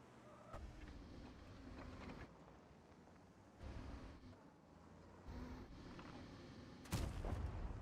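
Tank cannon firing in a video game, with booming blasts around 3.6 and 7 seconds over a continuous low engine rumble, no talk.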